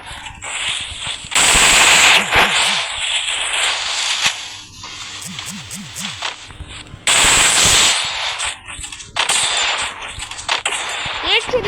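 Automatic gunfire in a first-person shooter video game, loud bursts of rapid shots in two long stretches with scattered single shots between, while someone talks excitedly over the action.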